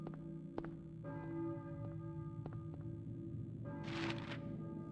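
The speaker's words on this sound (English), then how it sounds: "We're at the school. We hear the church bells going." Church bells tolling in the PlayStation game Silent Hill, heard at the school; several resonant struck tones with lingering hum ring out over a low droning game ambience, with a brighter burst near the end.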